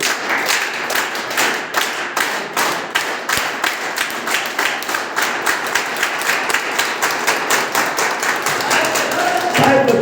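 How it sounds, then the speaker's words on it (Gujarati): A crowd at a speech event in Tharad applauds, its dense rapid clapping carrying on steadily for about ten seconds, with crisp taps and hand claps filling the room and loud throughout. "જોરદાર તાળી"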